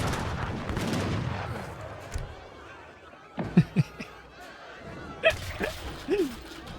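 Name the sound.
cannon firing in video game Age of Empires III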